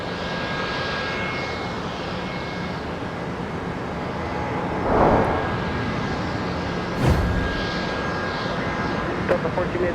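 An airliner departing runway 30 left at Minneapolis–St. Paul rumbles as a steady, fairly distant engine roar that holds through the whole stretch, with a couple of brief swells partway through and a voice talking over it.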